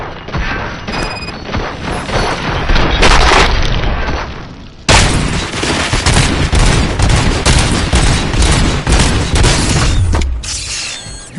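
Gunfire in the video game RoboCop Rogue City, dense rapid automatic bursts with heavy booms and crashing impacts, loud and sustained, with a brief lull before an abrupt renewed barrage.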